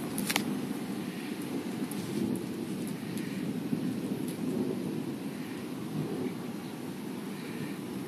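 Thunder rumbles low and continuous overhead during a storm, a deep rolling roar with rain hiss beneath, steady and fairly close with no voices.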